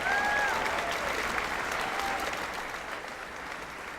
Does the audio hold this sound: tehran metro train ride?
no